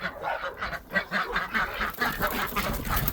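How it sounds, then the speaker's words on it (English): A gaggle of ducks or geese honks repeatedly at close range, overlapping calls forming a busy, continuous chorus outdoors, and no one speaks over it. "I'm walking through a gaggle of ducks."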